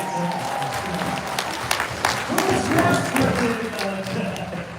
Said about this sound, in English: You get a round of applause for that.